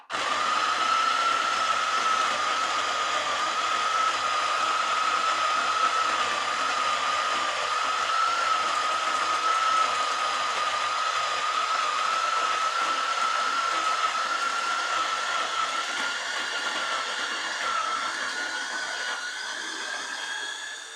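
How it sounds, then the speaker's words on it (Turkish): A Zwilling Enfinigy electric coffee grinder grinds coffee beans in one unbroken whine lasting about twenty seconds, a steady motor tone at moderate volume with no talking. "Evet, ikinci öğütüme başlıyorum."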